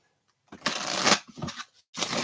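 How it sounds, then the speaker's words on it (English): Tarot card deck being shuffled by hand, two bursts of riffling and rustling with a brief pause between, close and fairly loud, no talking. "All right, one more shuffle here"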